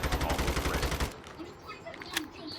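Automatic gunfire in Call of Duty Mobile rattles loudly for about a second, then cuts off, leaving quieter game ambience with a single sharp shot-like pop near the end.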